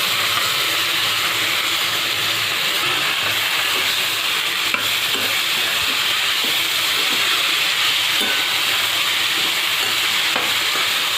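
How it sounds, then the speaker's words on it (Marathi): Washed cabbage tossed into a hot pan with sautéed tomatoes, giving a steady loud sizzle and hiss throughout, with occasional light stirring clicks and no talk. "आता याच्यात आपण कोबी घालूया, आणि धुवून घेतलाय मी"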